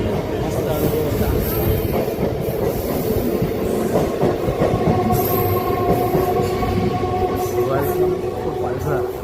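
A Palghar local commuter train runs steadily, close and loud, with continuous rumbling wheels, clattering rail joints and brief high squeals, and voices murmuring underneath throughout.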